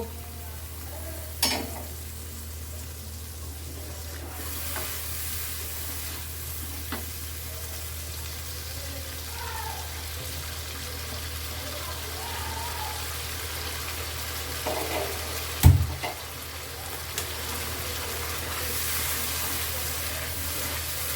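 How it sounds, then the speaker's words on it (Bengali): Spice masala for white pea ghugni sautéing after a splash of water, a steady close sizzle and frying hiss running throughout, with an occasional stir and one sharp knock. "যাতে মশলাটা ভালো কষা যায় ওই জন্য একটু জল দেব।"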